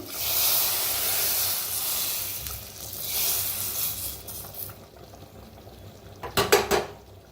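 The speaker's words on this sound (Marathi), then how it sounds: "आता ह्याच्यावर गरम गरम फोड ओतूया आपण" Hot tempering with red chili powder is poured over chopped dill greens, giving a loud, broad sizzling hiss that fades over several seconds, followed by a few sharp clinks of a spoon against a pan.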